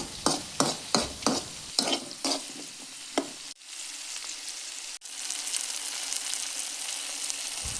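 Tomatoes are stirred in a hot pan for a beetroot curry, a run of sharp scraping strokes at first giving way to a steady, close sizzle of frying with no voices.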